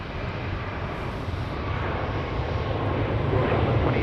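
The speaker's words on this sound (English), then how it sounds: "This is Flight 36 coming in from Houston Hobby Airport. It is a MAX 8" A Boeing 737 MAX 8 airliner arriving at Dallas Love Field makes a broad jet engine roar that swells steadily louder as it approaches, continuous with no talk.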